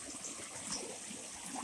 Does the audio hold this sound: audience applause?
no